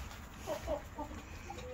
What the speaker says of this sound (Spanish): Aquí están, miren, los gallos y las gallinas, amigos.